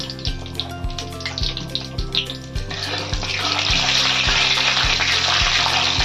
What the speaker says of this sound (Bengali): জিরে 1 চামচ ফোড়নে দিতে হবে।